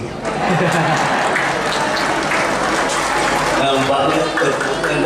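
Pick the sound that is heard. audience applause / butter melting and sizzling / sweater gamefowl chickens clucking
audience applause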